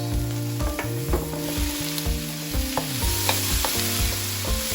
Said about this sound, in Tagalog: If you are using the small spring onions, alternatively, you can saute 1 medium-sized onion